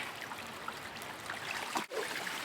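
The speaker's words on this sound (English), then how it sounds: "all my water's running right down into my bucket sieve container" Pumped water pours from a mini high banker sluice into a bucket sieve container, a close, soft trickling and gurgling stream running steadily with a brief dip near the end.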